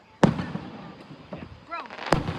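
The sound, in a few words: fireworks exploding at Ocean Isle Beach firework show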